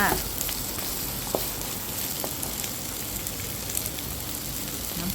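Cucumber crackles and sizzles in a hot pan during a stir-fry, a steady close frying hiss with a few sharper pops and no clear talk.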